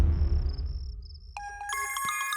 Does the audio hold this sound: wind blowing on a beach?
no